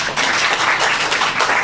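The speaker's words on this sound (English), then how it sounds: "Please help me welcome her with a big round of applause." An audience bursts into a big round of applause to welcome someone speaker at a leadership talk. Dense, steady clapping throughout, loud and close, with no voices over it.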